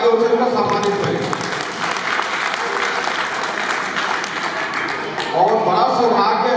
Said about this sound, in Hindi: सब एक बार जोरदार तालियों से उनका सम्मानित करें।